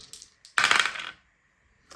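Four dice get rolled during a Kill Team tabletop wargame, making a single short rattling clatter as they tumble across the table. The sound is close and fairly loud, with a few faint taps around it.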